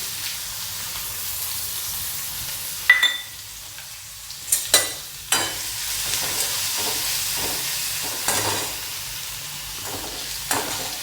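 Onion, curry leaves and a pinch of asafoetida frying for a rustic village vegetable dish, with a steady close sizzle broken by several sharp bursts and scraping stirs at irregular intervals, no voices.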